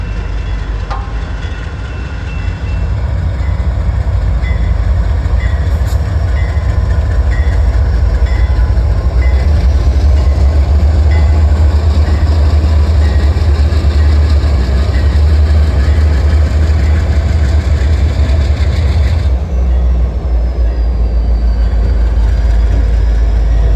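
A freight train rolls past loud and close, a heavy continuous rumble of engine and wagons with clanking wheels that holds steady before easing near the end.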